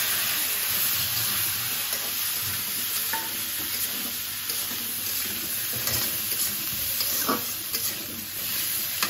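Onions frying in a pan, a steady loud sizzle and hiss with occasional stirring scrapes, continuous throughout and with no talking.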